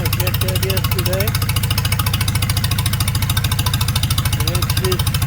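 A Palmer 60 engine running on an open exhaust pipe, a loud, steady rapid chugging close by that holds an even pace throughout.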